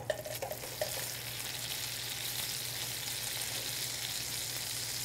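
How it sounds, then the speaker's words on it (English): The edges of a prime rib roast sear in butter over high heat, giving a steady, bright sizzle. A few scraping stirs come at the start, then a continuous hiss runs undisturbed with a low hum beneath it. "We're going to do that just by searing the edges over high heat with a little butter, about 30 seconds at a time."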